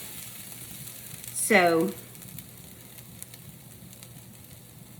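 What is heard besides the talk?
onions sizzling as they caramelize in a pan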